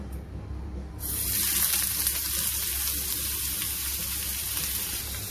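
Paneer frying in a little oil over a low gas flame, a quiet start that swells into a steady, fairly loud sizzle that holds to the end, no voices.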